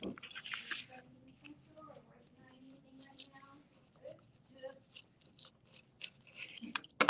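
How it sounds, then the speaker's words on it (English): Scissors snip around the edges of a piece, giving short crisp clicks and cuts spaced irregularly at close range, mixed with quiet handling sounds and a person talking in between. "So we're going to cut all the way around the edges."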